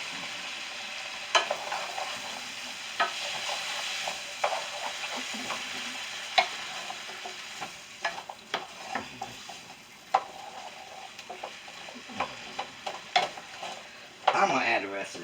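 Minced garlic frying with prosciutto in a pan gives a steady close sizzle, with scattered clinks and scrapes of a utensil against the pan throughout.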